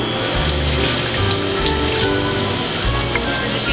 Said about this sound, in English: you gotta wash your hands again